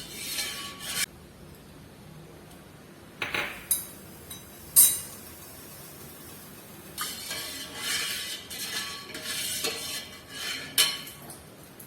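A metal spoon scrapes and stirs milk around a pot in bursts, with occasional clinks against the rim and quiet pauses between rounds of stirring.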